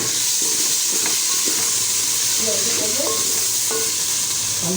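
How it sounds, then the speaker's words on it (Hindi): Tomatoes frying with radish greens and potatoes in a pan, a dense steady sizzle and hiss with spoon knocks and scrapes throughout, a faint voice murmuring underneath. "टमाटर डाल के इसको खूब अच्छी तरह हम भूनेंगे"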